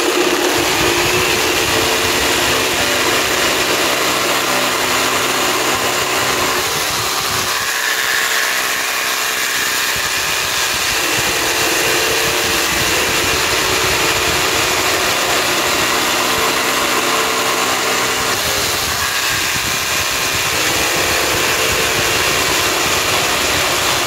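A Parkside Performance PSSPA 20-Li A1 cordless reciprocating saw cuts with a blade at the limit of its cutting length, giving a loud, steady buzzing drone with brief dips in intensity, with no talking.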